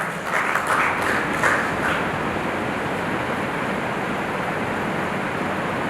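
Dense, steady applause from an event audience, loud and sustained for the whole stretch with no pauses, as a guest is welcomed onto the stage.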